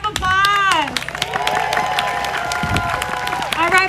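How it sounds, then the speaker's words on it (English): A crowd at a street rally in Salem, Oregon, with Trump supporters and Youth Liberation Front present, claps and cheers under loud voices, with shouting and chatter layered over scattered applause outdoors. "One more time, round of applause."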